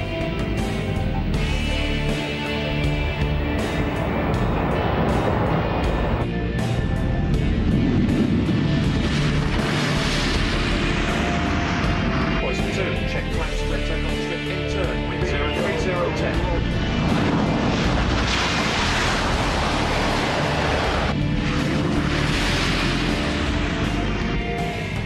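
A Harrier jump jet takes off from a strip with a loud, continuous roaring jet engine that swells and shifts in pitch, steady throughout and close by.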